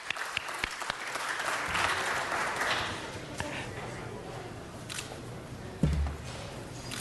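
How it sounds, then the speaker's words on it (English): Audience applause at a city council meeting, a broad wash of clapping that swells over the first seconds then thins to scattered claps, with a voice speaking faintly beneath and a thump near the end. "One more round of applause."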